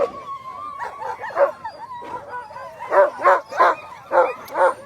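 Sled dogs at the start of the Willow 300 mid-distance race bark, yip and whine excitedly, a loud burst of rapid barks following a run of higher whimpering calls nearby.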